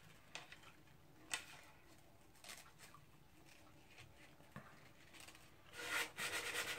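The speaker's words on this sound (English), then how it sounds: "taking a putty knife and some 220 sandpaper" A mandolin finish is sanded with 220 sandpaper wrapped on a putty knife, rubbed side to side: soft, close scratchy strokes, irregular and faint, growing denser and louder toward the end.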